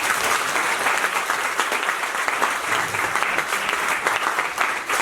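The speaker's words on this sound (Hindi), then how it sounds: "बस इस बार ताली बजा दें" An audience at a Hindi poetry gathering (kavi sammelan) at a government college claps steadily, a dense, loud, continuous wash of applause from many hands with no voices on top.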